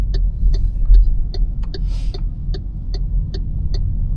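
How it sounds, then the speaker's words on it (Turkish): Turn signal indicator of an MG4 Comfort electric car ticking steadily inside the cabin, about two clicks per second, loud and close over a low road hum, with no talking. "Sinyal sesi ne kadar yüksek."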